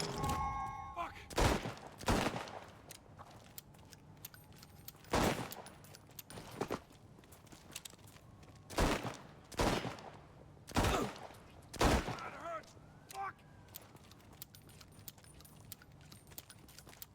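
Single loud gunshots ring out one at a time in an arena in the Chernobylite 2: Exclusion Zone game, about ten sharp cracks spread a second or two apart, with faint voices in the background.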